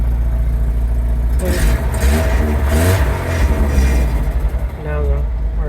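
A 1986 Nissan 200SX S12 Silvia runs loudly and steadily up close, its engine holding a sustained hum with slight swells in pitch as revs rise and hang, while someone talks over it throughout.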